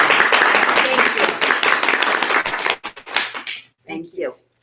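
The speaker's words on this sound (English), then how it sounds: "But how about a round of applause?" An audience claps through the first half in a dense burst of applause that thins out and stops partway, followed by a few brief voices.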